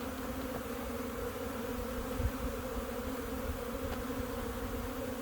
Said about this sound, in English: Oh, little bees.